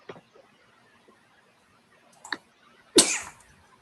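A single sharp, close sneeze bursts out near the end, after faint clicks and small noises in an otherwise quiet room.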